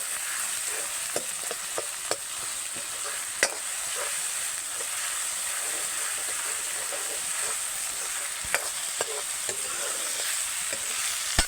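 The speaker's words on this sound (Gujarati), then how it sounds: "ટમેટા, હવે થોડી વાર બધું પાકવા દઈએ." Tomatoes and vegetables for a village-style Kathiyawadi shing bhaji curry cook in a pan, giving a steady soft sizzle and hiss with scattered small pops and crackles and a few louder clicks of stirring throughout, with no talking.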